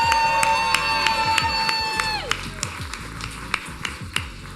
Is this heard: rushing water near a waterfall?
no